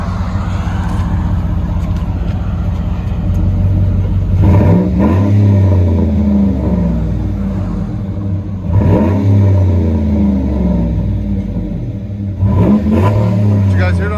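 A 2009 Chevy Avalanche 5.3L V8 with dual Flowmaster Super 10 exhaust rumbles loudly at idle, with three short revs rising and falling, and people talk nearby.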